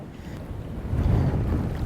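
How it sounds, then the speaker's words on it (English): Strong wind roars across an open fishing boat, a steady, close, buffeting rumble that swells slightly midway, with no voices. "Oh man, this wind is just next level."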